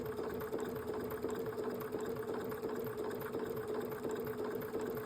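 Sewing machine stitching paraglider lines, a steady fast mechanical whirr with even rapid needle pulses, continuous and fairly quiet.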